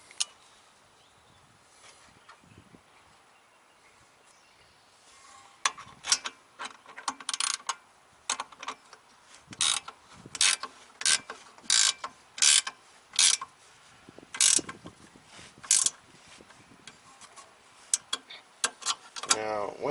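A ratchet wrench tightening an air suspension bag fitting on a VW MK4, quiet at first, then a long run of rapid clicking ratchet strokes in uneven bursts, close and crisp.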